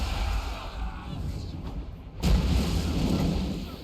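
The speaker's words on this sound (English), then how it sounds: "We'll give them a hit of the Zupar cannon guns." Dwarf cannon guns fire in the fantasy strategy game Total War: Warhammer 3, a deep distant boom rolling into a sustained rumble amid steady battle noise, with no talk over it.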